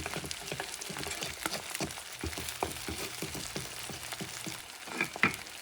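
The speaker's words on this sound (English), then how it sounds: "And cook your egg." An egg fries in a pan for a gourmet shrimp sandwich, giving a steady close sizzle with scattered crackles and pops, brighter spurts near the end, and no talking.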